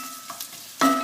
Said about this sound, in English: let me just give that a little stir around